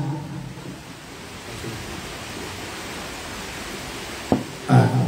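Steady rain falls as a continuous hiss throughout, fairly loud and even, with a couple of sharp knocks near the end.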